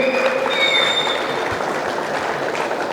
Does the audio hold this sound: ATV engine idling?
no